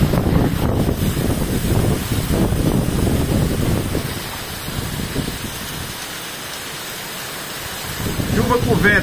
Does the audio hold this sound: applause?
no